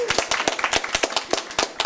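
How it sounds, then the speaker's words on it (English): An audience gives a board-meeting group a round of applause, individual claps sharp and fairly close, scattered and uneven rather than a dense roar, with no talking over it. "Let's give this group, this dynamic group, one more round of applause"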